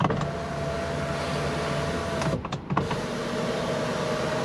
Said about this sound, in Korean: 썬루프 열고 닫을 때 굉장히 빨라요, 속도가.